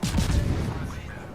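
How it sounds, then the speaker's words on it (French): Naval guns of the Okhotnik destroyer firing in World of Warships, a dense cluster of close, heavy booms rolling into a fading rumble. "là, il commence à se servir de ses canons à de loin"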